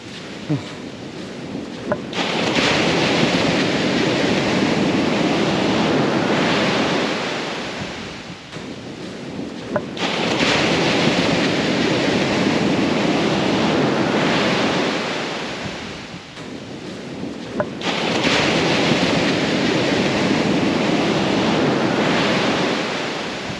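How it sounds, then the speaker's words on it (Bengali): Sea waves roar onto a sandy shore on a coastal trek, three long swells of crashing surf rising and falling over wind noise, loud and continuous. "আর এপাশে গর্জন করে চলেছে সমুদ্র"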